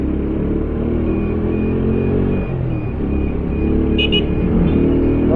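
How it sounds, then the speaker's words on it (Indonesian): Steady drone of busy road traffic with many private cars on a route through Purwakarta toward Wanayasa, constant engine rumble close by with a brief higher tone near the end, no talk. "banyak kendaraan pribadi"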